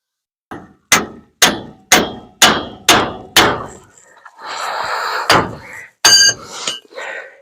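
On a 1950 Ford F1 with a dropped front axle, a hammer drives a pickle fork to separate a tie rod end. Six loud, evenly spaced metallic clangs are followed by a scraping rattle and a few final hard strikes.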